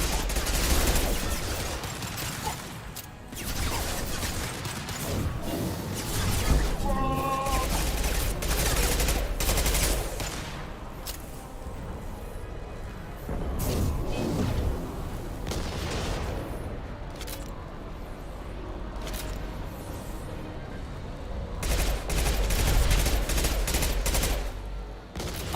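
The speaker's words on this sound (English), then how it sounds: "Taking heavy fire." Heavy gunfire erupts in a Mass Effect 2 firefight, dense volleys of automatic shots and cracking bursts rattling almost nonstop, swelling and easing in waves with booming impacts under the constant barrage.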